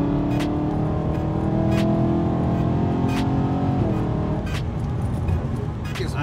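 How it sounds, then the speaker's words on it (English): A BMW E92 M3 with the 4.0 V8 and DCT gearbox drops from sixth to fourth gear and pulls hard, the close, loud engine note climbing steadily, dipping at the downshift, then surging again. "we're in 6th gear, drop it down, and this is just 4th gear"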